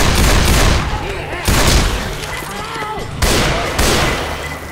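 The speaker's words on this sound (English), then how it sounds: "Pipe bomb." Pipe bomb blasts in Left 4 Dead 2, a series of loud booming explosions in bursts with rumbling decay between them, close and dominating.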